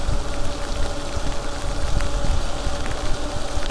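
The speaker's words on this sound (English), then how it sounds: "that rain hitting your face feels like little" Rain patters steadily while riding an e-bike, with raindrop taps and a rushing wash of motion noise, continuous and fairly close.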